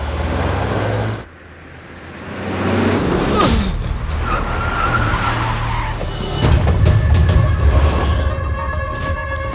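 Tyres squeal as a car skids hard in a Hindi film car chase, a loud screech rising over engine roar, followed by the vehicle racing on.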